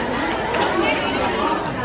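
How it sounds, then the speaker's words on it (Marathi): A dense crowd chatters at a busy spot in Mumbai, a loud unbroken wash of overlapping voices with no single speaker standing out. "गर्दी"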